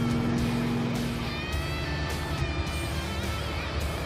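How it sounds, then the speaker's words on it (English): A loud car engine rumbles steadily nearby, heard from inside another car, with a low drone and faint higher whine and no speech over it. "Oh, yeah, that car is loud."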